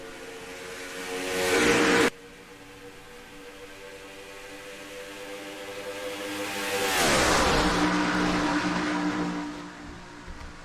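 NOFSRL race trucks roar away at a green-flag start in the K&N 200 at Charlotte, a loud engine surge cutting off abruptly, then a second dense wave of engines swelling and passing by up close.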